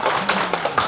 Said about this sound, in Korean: 우리 그 안희진 대표님을 큰 박수로 모시겠습니다